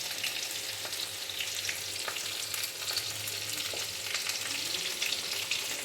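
Bengali fish roe curry bubbles and fries in a pan, a steady soft sizzle with occasional light stirring taps, fairly quiet and unbroken, no voices.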